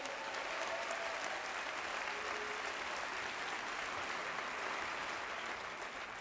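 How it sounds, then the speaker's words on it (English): Steady applause from a large audience at a Bioneers environmental gathering, a dense sustained wash of clapping that fills the whole stretch without any speech over it. "Give a round of applause for People's Grocery, West Oakland."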